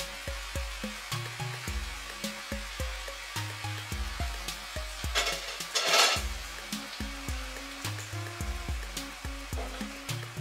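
Tomato and eggplant sauce sizzles in a pan while being stirred, a steady frying hiss with soft repeated scraping strokes throughout and one brief louder burst in the middle.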